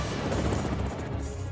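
A helicopter flies close by, its rotor making a continuous, dense thumping chop over a short stretch with no pauses.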